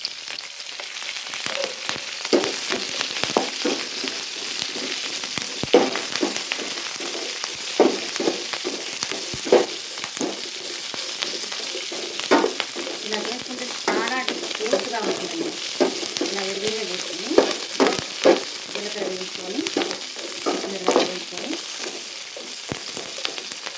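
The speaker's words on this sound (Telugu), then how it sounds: "జీలకర్ర వేయించుకుందాం పచ్చిమిరకాయలు వేసుకుందాం దీంట్లో తగినంత ఆయిల్ వేసుకుందాం" Cumin and green chillies fry in hot oil for gongura chutney, a dense crackling sizzle that runs throughout with frequent spatula scrapes and clicks against the pan, close and fairly loud.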